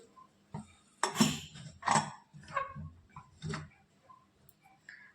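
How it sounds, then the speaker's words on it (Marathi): A pressure cooker lid is taken off after cooking raw mangoes, with a handful of metallic clanks and clicks at close range and quiet pauses between them. "आता आपण झाकण काढून बघू"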